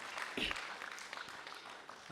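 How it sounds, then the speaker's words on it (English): A brief round of applause for debaters at a school debate semi-final, fairly faint and thin, with speech mixed in over the clapping. "Let's give them a round of applause"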